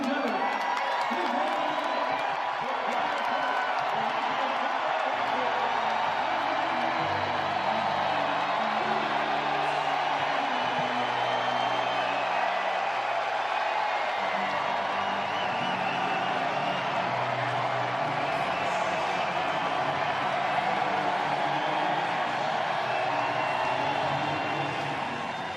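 A large crowd cheers and whoops at Jim Harbaugh's introduction as Michigan football coach, a broad, sustained roar of voices filling the space from start to finish with no single voice standing out.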